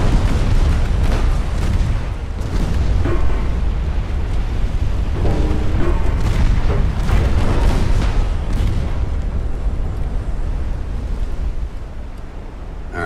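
Ship ammunition cooking off in the naval warfare game Ultimate Admiral: Dreadnoughts, a loud, continuous roar of rumbling blasts and booms that stays dense and heavy throughout, with no pauses.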